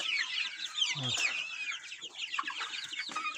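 Young chicks of several pure breeds on an Orenburg poultry farm after the morning feeding give dense, continuous high peeping and soft clucking, close and busy, with someone briefly speaking.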